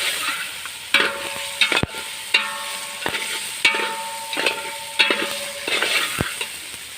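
A spoon scrapes and clanks around a pot of yakhni pulao in village-style cooking, with rhythmic stirring strokes and metallic knocks over a steady sizzle of frying.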